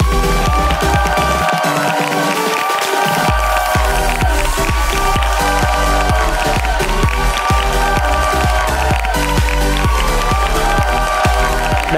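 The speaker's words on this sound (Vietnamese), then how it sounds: "xin mời quý vị dành một tràng pháo tay để chào đón Lê My" Studio audience applause welcoming a contestant on a Vietnamese dating show: steady, loud clapping from a crowd, with music running underneath throughout.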